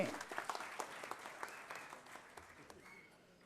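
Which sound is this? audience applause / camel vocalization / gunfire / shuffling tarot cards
audience applause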